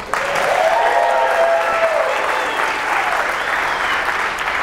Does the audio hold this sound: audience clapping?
yes